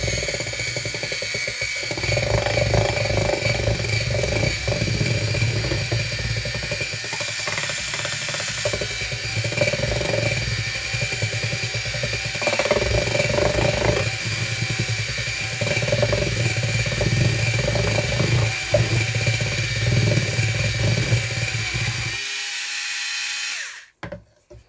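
Electric mixer whirring steadily as it blends batter in a bowl, a loud continuous motor hum with slight changes in pitch and load, running for most of the stretch before cutting off abruptly near the end.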